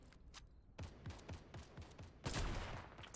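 Gunfire in the video game Fortnite Battle Royale, a run of rapid shots followed by a louder burst, heard alone at moderate volume.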